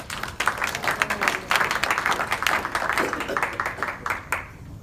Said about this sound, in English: Victory clap.